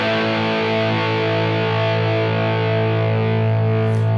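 A loud, sustained distorted electric guitar chord, an A5 reached by sliding into it, rings with rich overtones and effects processing throughout, with no talking.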